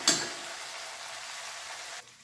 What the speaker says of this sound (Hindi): तेल हमारा गर्म हो गया है, सबसे पहले हम डालते हैं इसमें अदरक और लहसुन जो हमने बारीक बारीक काट रखा था